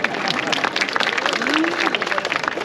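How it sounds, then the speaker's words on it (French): Scattered applause from an outdoor audience at a medieval festival in Guérande, steady crackling claps spread through the whole stretch with voices and a performer's vocal sweep audible beneath. "Vous pouvez applaudir la bête"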